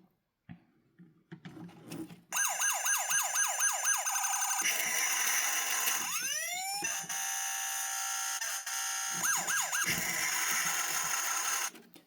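A 2011 Tonka Rescue Force toy fire truck plays its electronic siren through a poor speaker, cycling through rapid wailing sweeps, a rising whoop and steady warbling tones, loud and close after a few clicks and pauses.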